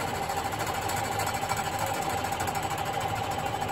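A machine tool running in back gear resurfaces the exhaust manifold flange from a 1942 International truck's Blue Diamond engine, giving a steady, dense mechanical chatter and hum that continues evenly throughout, with no talk.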